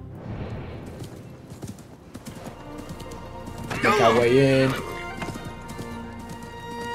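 A horse in Assassin's Creed Mirage clip-clops along with a brief neigh midway, hoofbeats light and intermittent beneath game ambience while a person talks over it.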